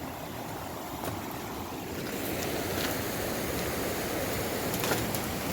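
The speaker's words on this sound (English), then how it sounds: "What a beautiful creek." Creek water flows steadily near Webber Lake in Tahoe National Forest, a continuous soft rush with faint wind and no speech.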